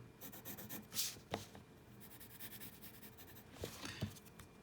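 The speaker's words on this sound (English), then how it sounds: "quickly sketch that one" Pencil sketching on paper, with soft scratchy strokes and rubbing running steadily throughout, a few sharper scribbles standing out, close and fairly quiet with no talking.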